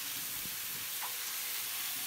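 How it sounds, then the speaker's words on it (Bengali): Vegetables, potato and cauliflower with a little salt, frying in a pan, giving a soft, even hiss of sizzling oil with a few faint stirring touches, quiet and continuous. "দিয়ে আমি ভালো করে ভেজে নেব"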